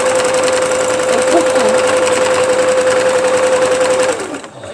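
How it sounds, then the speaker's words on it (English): A sewing machine runs steadily and loud with a constant motor whine for about four seconds, then winds down and stops near the end. "I guess I probably need to clean my sewing machine again."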